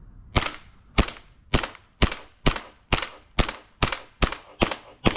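An airsoft pistol fires BBs at a close-range target: ten sharp, loud shots at a steady rhythm of about one every half second, each with a short decay and no talking.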